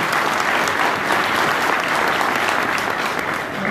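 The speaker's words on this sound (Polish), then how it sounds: "Wielkie brawa!" Audience clapping at a speedway team presentation for the new season, a loud, dense, sustained round of applause from a large crowd, with no talk over it.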